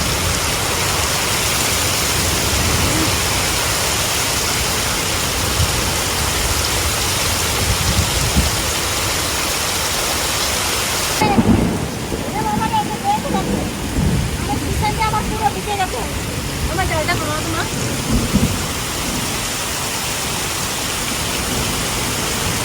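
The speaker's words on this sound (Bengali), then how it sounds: "অনেকদিন পর এত বৃষ্টি এই বছরে প্রথম হলো মনে হয়।" Heavy rain pours down in a loud, dense roar. Partway through it eases, and quieter background sounds and some talking come through.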